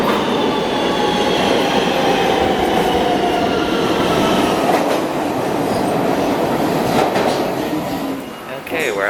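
A New York subway E train running toward 51st Street, a dense, close roar of wheels and car rattle with a faint squealing tone, the rumble easing slightly near the end.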